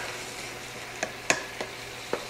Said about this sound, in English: let's get these onions and peppers nice and softened down